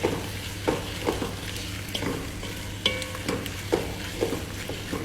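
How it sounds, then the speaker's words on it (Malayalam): Date and lemon pickle stirred in a pan, a spoon scraping in steady repeated strokes over a soft background sizzle, close and moderately loud with no voices. "നന്നായിട്ടൊന്ന് ഇളക്കി യോജിപ്പിച്ച് കൊടുക്കുക"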